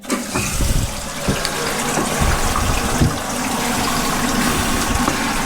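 Water gushes into a toilet cistern after the supply is turned back on following a repair, a loud, steady rushing flow that starts abruptly and continues unbroken, close to the listener, with no talking over it.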